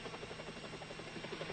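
Helicopter flying overhead, a steady close rotor drone with a rapid pulsing chop that holds an even, continuous level for the whole stretch.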